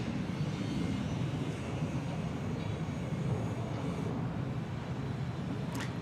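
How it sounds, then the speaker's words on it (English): An EVA Air Boeing 777 with GE90 engines rolls onto the runway at Bangkok Suvarnabhumi Airport, a steady, dense low rumble of jet engines filling the air continuously, with no voices. "the London Heathrow bound EVA 777 just rolling out onto the runway"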